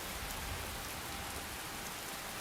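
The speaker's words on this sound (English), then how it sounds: "I have a mod that enhances rain." Steady rain pours down in Skyrim with a rain-enhancing mod, a dense, even hiss of falling drops spread across the whole moment, quiet and unbroken with no voices.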